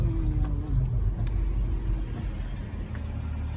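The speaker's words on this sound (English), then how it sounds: "I'm driving my car" A car engine rumbles steadily from inside the moving vehicle, a low continuous drone with slight shifts in pitch and no talk over it.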